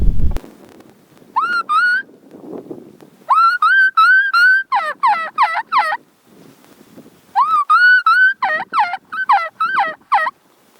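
A hunter on a latex mouth turkey call imitates a lost hen: clear rising whistles followed by runs of sharp, loud yelps in separate sequences, close and alone.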